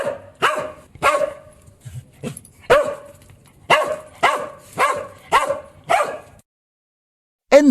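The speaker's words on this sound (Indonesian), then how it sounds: "anjing" A dog barks about ten times in sharp, close bursts, spaced roughly half a second apart. A pause follows before one more bark at the very end.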